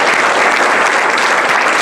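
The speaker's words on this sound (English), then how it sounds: "let's give them a round of applause for their support" Dense, loud audience applause at an award event introduction, a continuous even wash of many hands clapping with no pauses.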